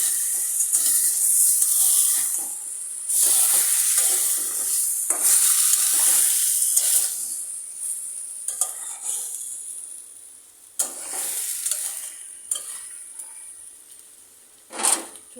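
Garlic paste frying in a pan for a thin chicken and papaya curry, with a loud hiss of sizzling oil under repeated scraping stir strokes that fade toward the end, broken by a few sharp knocks of the utensil.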